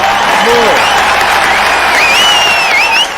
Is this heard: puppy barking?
no